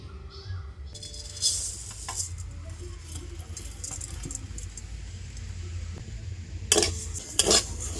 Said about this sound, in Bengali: আর এই শুকনো কড়াতে চালটাকে একটু ভেজে নেব